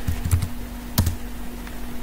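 Close computer keyboard key presses while working in Microsoft Excel, a quick cluster of clicks near the start and another firm tap around the middle, over a steady low electrical hum.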